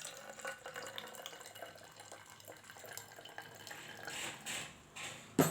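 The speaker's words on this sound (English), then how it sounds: "Now fill it in the bottle" Vinegar being poured into a bottle gives a soft, steady trickle and gurgle of liquid, close but quiet, ending with a small knock at the finish.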